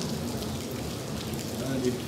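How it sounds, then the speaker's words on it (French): Rain falling steadily over Los Angeles, a continuous close wash of drops on surfaces with faint voices mixed underneath throughout. "Il commence à pleuvoir sur Los Angeles."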